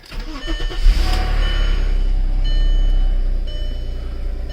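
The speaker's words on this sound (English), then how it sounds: "Car sounds a little crummy right now" A Volkswagen B5 Passat engine cranks briefly and fires up, then runs at a loud, steady rumble that eases slightly toward the end.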